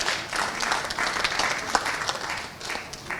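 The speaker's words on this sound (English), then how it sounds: "a big round of applause to him" A crowd of audience members claps and applauds in a steady, dense wash of hand claps lasting throughout, fairly near and even.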